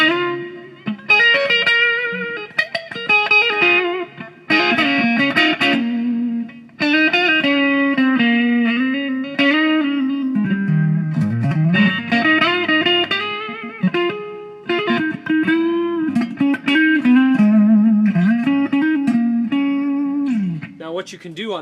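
Electric guitar played on its neck pickup through a Digitech Red Special pedal, melodic sustained single-note lines and bends with a smooth, saturated, chorused tone, loud and continuous, no voice.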